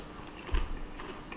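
Homemade popcorn is chewed close to the mic in a short burst of crunching, with one firmer crunch in the middle, faint and brief.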